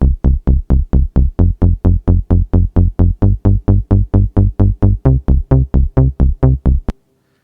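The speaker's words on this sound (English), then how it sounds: "It's technically right now being a TX81Z playing the Lately bass patch," A deep, punchy Yamaha TX81Z house bass patch, the Lately bass, repeating steady even plucks, about two dozen hits in a driving rhythm before stopping abruptly, loud and dry.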